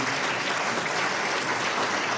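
An audience applauds Hadi Tjahjanto at the ATR/BPN ministerial handover ceremony, a dense, even roar of many hands clapping throughout, steady and unbroken, with no voices over it.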